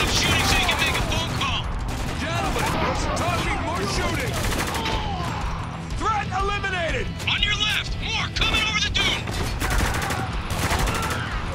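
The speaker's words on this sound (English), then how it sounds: "Time to shoot some guys." Heavy automatic gunfire in the video game Spec Ops: The Line, set in Dubai: loud, continuous bursts and bullet impacts, with voices talking over the shooting throughout.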